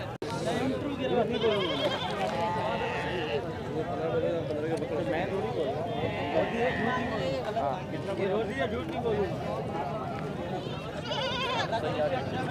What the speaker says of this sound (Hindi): शेर खान की ये बकरियां हैं।